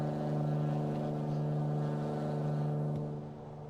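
A Mooney light aircraft's engine drones steadily in flight, a loud, even tonal hum heard from inside the cockpit, fading slightly near the end.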